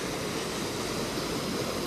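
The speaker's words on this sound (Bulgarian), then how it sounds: "На реката сме вече." River water flows steadily at a trout-fishing spot, a continuous broadband rushing and gurgling that fills the whole stretch without pause and with no voices.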